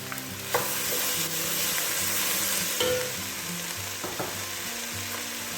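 Crushed garlic sizzles in about 40 grams of melted butter in a pan, a steady close frying hiss with a few soft clicks and stirs on top, and no one speaking.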